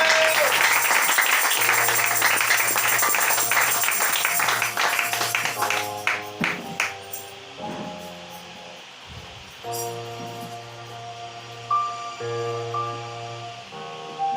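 Congregation applauding in a church service, a dense burst of clapping for roughly the first seven seconds before thinning out into scattered claps, murmurs and organ-like sustained tones.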